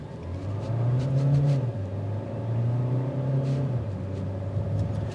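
A hybrid car accelerates off the line during a test drive, heard from inside as a steady, rising engine and motor rumble that swells and holds for several seconds, fairly loud, with no speech.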